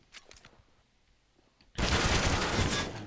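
Rifle fire from a Counter-Strike match on the Dust 2 map: faint scattered shots at first, then a sudden loud, dense burst of sustained gunfire filling the second half.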